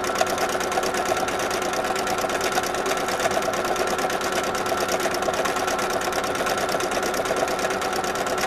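A sewing machine runs at a fast, even pace doing contour stitching with citrus thread on the rays of a sun design for a zipper pouch, a continuous mechanical whirr heard close and alone.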